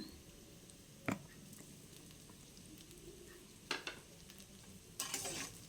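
Ingredients for coconut paneer masala frying in a pan, a low steady sizzle with three louder stirring scrapes spaced through the stretch.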